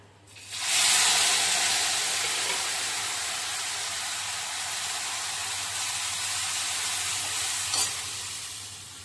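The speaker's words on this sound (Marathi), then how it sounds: "आता ह्याला देऊया तडका" Tadka tempering for sambar dal bursts into a loud, steady sizzle in a hot pan and keeps hissing and crackling close up for several seconds, with a brief flare near the end and no talking.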